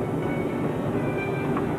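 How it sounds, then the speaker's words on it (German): A Berlin S-Bahn train rattles past in a steady, dense rumble with clattering wheel noise and no gaps, heard alone without voices. "Mehrere hundert S-Bahn-Züge rattern täglich durch Berlin."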